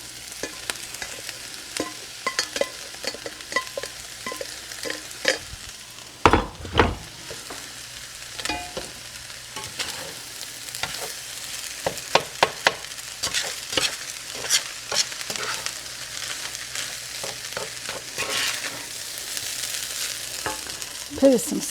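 Chicken fried rice is stir-fried in a pan on the stove, a constant sizzle overlaid with repeated sharp scrapes and clatters of the spatula stirring, close and busy, with no talk.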